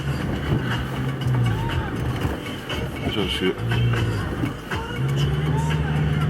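A 4x4 off-road vehicle drives near a potato field, its engine droning steadily with rising and falling revs across the whole stretch, while someone talks over it.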